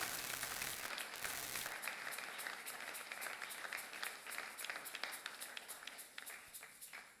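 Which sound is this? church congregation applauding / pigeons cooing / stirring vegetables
church congregation applauding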